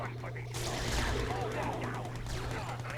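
Sentry gun in the Red Alert 2 strategy game firing rapid bursts of automatic gunfire, dense and continuous after a brief quieter start, mixed with other battle noise while a voice talks over it.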